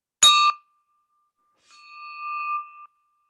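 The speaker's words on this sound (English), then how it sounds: "Ring the bell." A bell is rung at a meeting: one bright, sharp ding, then a pause and a longer, softer ringing tone that holds steady before cutting off. The setting is otherwise quiet.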